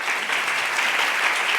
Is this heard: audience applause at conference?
yes